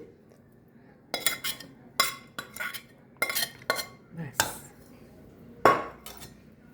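A spoon clinks and scrapes against a bowl while amla pickle is mixed with a tempering of garlic, cumin, mustard seeds and fenugreek, in a series of sharp, close metallic taps with short pauses between them.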